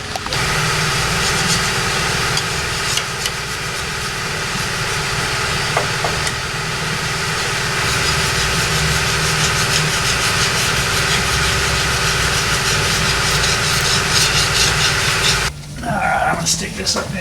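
Garage air compressors run in the background as a steady, loud, low mechanical drone and hum that holds throughout, with a brief shift near the end.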